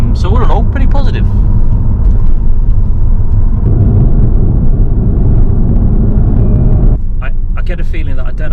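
Honda Civic MK8 with a 1.8-litre VTEC engine, fitted with an ECU boost tweak, droning steadily from inside the cabin at around 2,500 rpm in second gear, with a loud continuous rumble and a change in pitch partway through.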